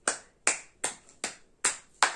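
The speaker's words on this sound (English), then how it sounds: "Just like this, chapati, clap." Six sharp, crisp claps of the chapati clap, palms patted together as if shaping flatbread, land in an even, steady rhythm, each one bright and close with quick decay between.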